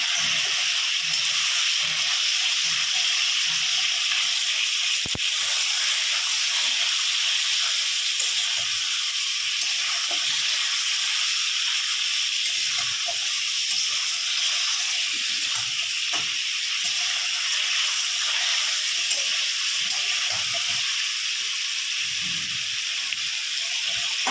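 Ginger garlic paste and spices fry in a kadai with a steady, bright sizzle and hiss throughout, broken by occasional soft stirring scrapes and knocks.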